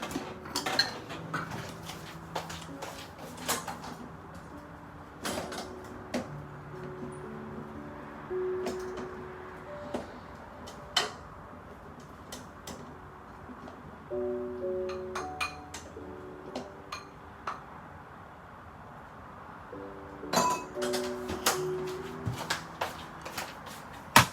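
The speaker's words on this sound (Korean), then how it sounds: "밥을 퍼볼게요" Cooked rice being scooped into a bowl while dishes and utensils clink in a home kitchen, with scattered sharp clinks and taps over a quiet background and a few faint tonal rings.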